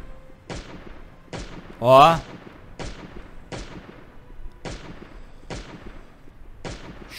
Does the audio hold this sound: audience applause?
no